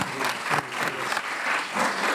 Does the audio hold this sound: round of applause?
yes